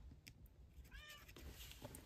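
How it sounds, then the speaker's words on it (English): A house cat meows once in the background of a quiet indoor paper-crafting session, a short faint rising-falling cry amid soft handling noises, with a brief louder thump at the very end. "You can hear my cat in the background."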